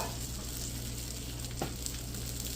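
Egg-soaked bread for French toast fries in oil in a pan, a steady soft sizzle with a faint clink partway through.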